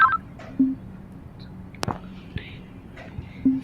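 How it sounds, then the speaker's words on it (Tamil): A phone rings in the scary Roblox obby game Escape Mr Funny's Toy Shop, giving short electronic beeps at intervals over a quiet, dark background with a faint whisper. "ஃபோன் வேறு ராங் ஆகிட்டே இருக்கு."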